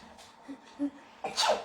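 A single voiced sneeze imitation: a few soft breathy intakes build up, then a loud, sharp burst near the end.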